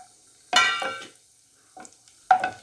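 Cashews and raisins frying in a pan for Karnataka-style kesaribath give off short bursts of sizzling and stirring scrapes, three separate spurts separated by near silence.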